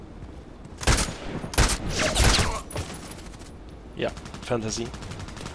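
Gunfire in Contract Wars: three sharp, loud shot bursts about a second apart ring out, then a quieter stretch with brief talk.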